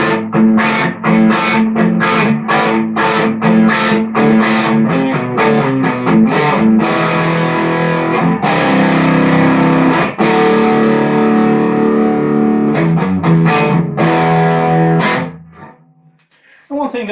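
A heavily overdriven electric guitar through a Marshall SC20 JCM800 amp with a Legendary Tones Hot Mod V2 boost plays chords and short bursts, thick and distorted, loud and continuous before breaking off near the end.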